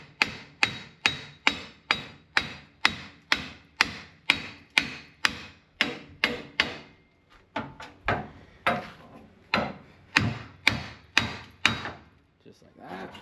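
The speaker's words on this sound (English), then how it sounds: "I usually just hammer right on the front arm" A hammer strikes a front suspension arm on a Honda Civic during steering knuckle removal, about two dozen sharp metallic blows in a steady rhythm, slowing and turning uneven near the end.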